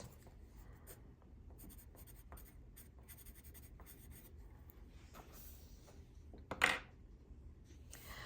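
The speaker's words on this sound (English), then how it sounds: "So I'll write that down." A pen writing on paper in a quiet room: soft, close scratchy strokes in short bursts, with a louder scrape near the end.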